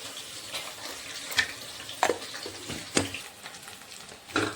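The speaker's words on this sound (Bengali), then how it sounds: "মাছ ভাজা হয়ে গেছে" Fish frying in hot oil, a soft steady sizzle with several sharper pops and spatters spaced through it, fairly quiet and with no one speaking.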